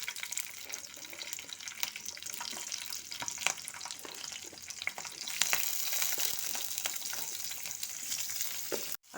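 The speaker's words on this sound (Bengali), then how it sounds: "আমি হাই হিটে এটাকে একটু লাইট করে ভেজে নিচ্ছি" Onion, tomato and capsicum sizzle and crackle steadily in white oil over high heat, a dense close frying hiss with scattered pops and brief stirring scrapes, no voices.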